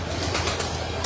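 Pigeon coos at a breeder's loft, soft repeated calls under a steady busy background with a few brief bursts of noise.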